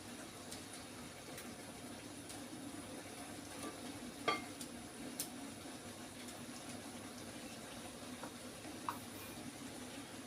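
Noodles cook in a pan on a stove with coriander leaves added, a steady low bubbling and sizzling hiss throughout. A couple of faint utensil clicks sit over it.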